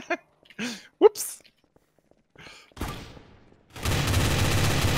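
Sniper rifle in Trouble in Terrorist Town fires a single loud shot after a few brief voiced sighs and gasps, followed by a dense, sustained burst of noise to the end.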